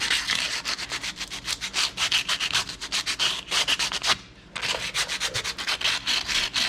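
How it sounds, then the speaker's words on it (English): Rough edge of a cut part being sanded with 80 grit sandpaper during a differential swap, rapid rhythmic back-and-forth scraping strokes, close and loud, with a brief pause midway. "you just want to sand it down pretty well,"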